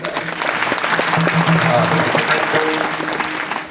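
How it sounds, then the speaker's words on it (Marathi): Steady, dense applause from a kirtan audience at a devotional gathering, rhythmic hand claps filling the space continuously and loudly throughout, with some voices and harmonium-like tones faintly underneath. "टाळ्या वाजवा सगळ्यांनी."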